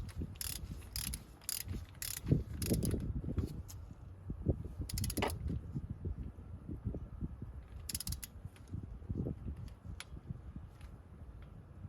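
Torque wrench tightening a spark plug on a 1989–97 Mazda Miata MX-5, rapid ratcheting clicks in close, irregular bursts with metallic creaks, loud and near, with no talking.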